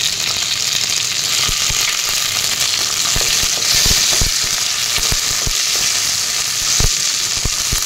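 Loud steady sizzling of tomatoes frying with onions in a pan, with scattered pops and crackles throughout.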